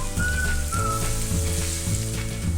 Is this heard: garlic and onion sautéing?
yes